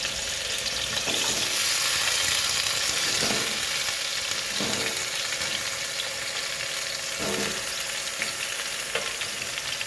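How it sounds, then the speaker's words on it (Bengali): Potato and papaya pieces fry in oil in a wok, a constant loud sizzle with several distinct stirring scrapes spaced a second or two apart, no voices. "এখন আমি আলু আর পেঁপে এটা মাংসের জন্য ভাজা করে নেব।"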